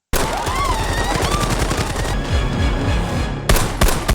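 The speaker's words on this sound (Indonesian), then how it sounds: "dia mendengar suara tembakan" Gunfire in a tense hostage rescue scene by special forces in the Philippines, a dense burst of rapid shots under a busy film mix with faint voices, then a couple of loud isolated cracks near the end.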